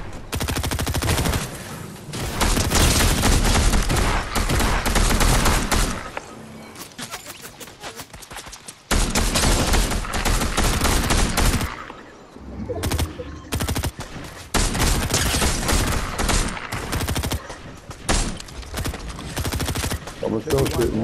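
Video game gunfire in a squad battle, rapid automatic bursts and fusillades that run loud and dense for long stretches, broken by short pauses, with players talking over it.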